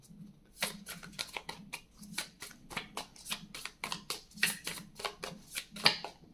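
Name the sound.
drawing a card from an oracle card deck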